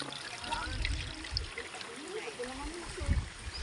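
Water trickles and dribbles down from above across a landslide area at Manupak, a faint, steady running flow with soft splashy bursts, heard outdoors at low level.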